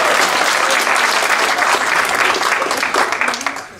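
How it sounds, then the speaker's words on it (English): An audience claps steadily and loudly at a leadership program event, a dense burst of applause that holds for a few seconds before tapering off. "Let's give them a round of applause."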